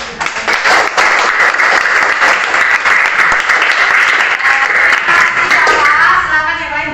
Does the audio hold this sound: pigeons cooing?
no